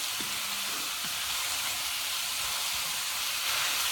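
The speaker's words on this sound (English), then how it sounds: "You want to hear that sizzle." Ground meat for a Thai basil stir fry sizzles steadily in a hot wok, a continuous loud hiss with faint scraping from a spatula.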